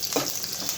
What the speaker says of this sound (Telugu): ఎండుమిర్చి, కరివేపాకు, ఇది కొంచెం వేగిన తర్వాత